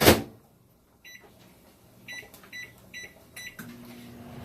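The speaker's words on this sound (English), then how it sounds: "we're going to put these in the microwave for whatever time it says" Microwave oven cooking riced cauliflower in a home kitchen, a soft low hum after a door thud, with a steady tone settling in near the end amid faint clicks.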